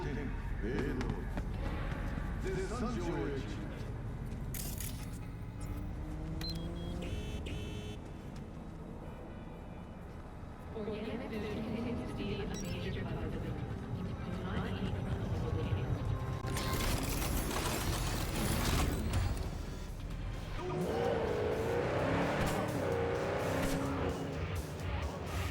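A summoned car arrives in the video game Cyberpunk 2077 (Nomad path, Hard difficulty), its engine revving and tires rolling in bursts among dense, busy game sound for about twenty-five seconds.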